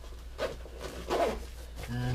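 Zipper being worked on the front access of an underslung seat bag on a dinghy, a few short rasping pulls close by, with a low steady hum underneath and a voice briefly nearby.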